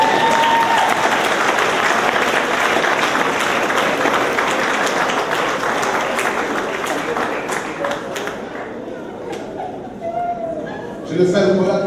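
A church congregation at a service in Guadeloupe breaks into loud, sustained applause, a dense wash of clapping with scattered voices that fades slightly toward the end, where a voice is heard.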